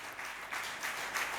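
A church congregation applauding during a service, a sustained crowd clapping at moderate loudness that swells in a few waves across the short stretch, with no clear talking over it.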